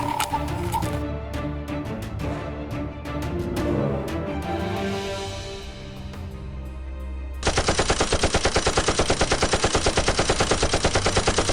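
Rapid mechanical bursts of toy gunfire during a mock battle with Nerf guns, loud and close: rhythmic clatters at first, then a fast, steady machine-gun-like rattle that runs to the end.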